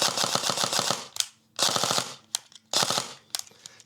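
Airsoft MP5 fired on full auto with an empty magazine: three rapid mechanical rattling bursts, each about half a second to a second long, loud and close, separated by brief pauses.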